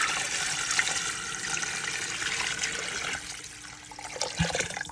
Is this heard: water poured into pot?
yes